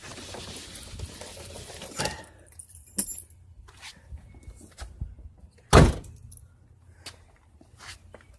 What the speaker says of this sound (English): But set my keys somewhere.